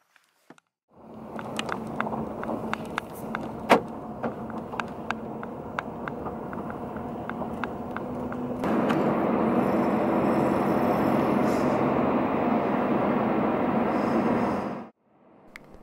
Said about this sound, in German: ich fahre hier auf einer ehemaligen Autorennstrecke